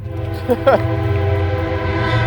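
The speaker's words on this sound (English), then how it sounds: "And then we have a train coming by." A train rumbles past nearby with a steady, tonal drone, and a brief voice cuts in partway through.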